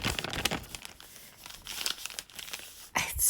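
Crisp crinkling and crackling of paper stiffened by dried watercolor paint, handled up close in a series of sharp, uneven rustles and bursts, with no voices.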